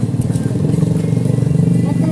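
Noisy Honda Click 150 scooter engine with a broken connecting rod, running steadily up close with a continuous loud knocking rattle over its low drone, while someone talks throughout.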